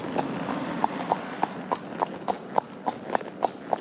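A ridden horse clip-clopping along the way home, a close, evenly spaced series of crisp hoof strikes about three per second over a soft, steady outdoor background.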